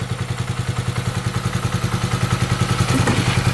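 A Haotian Vixon motorcycle engine idles close by with a steady, rapid pulsing chug and light mechanical clatter, running alone without talk.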